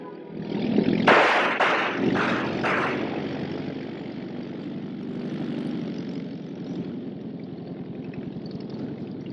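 A propeller pickup plane flies past in a 1942 crime mystery scene, its engine drone swelling loud and near before settling into a steady, fading hum.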